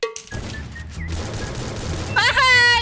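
Bursts of gunfire ring out in the Free Fire battle royale game, a rapid run of shots carrying through the middle of the moment before a louder, brighter flurry near the end.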